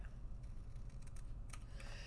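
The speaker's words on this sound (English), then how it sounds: "Find my little scissors here and cut this little strip off." Small scissors snipping a paper strip for a scrapbook layout, several faint crisp clicks and snips in quick irregular succession over a low background hum.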